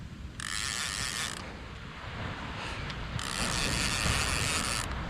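A fishing reel is cranked while beach fishing for snapper, making two bursts of rapid ratcheting clicks separated by a short pause, close to the microphone over soft wind and surf noise.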